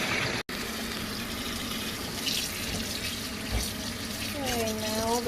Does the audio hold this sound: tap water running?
yes